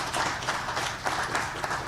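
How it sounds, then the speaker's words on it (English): Attendees at a regional trail summit applaud, a brief, moderately loud wash of clapping from a gathered crowd in a hall. "everyone should just give themselves a huge round of applause."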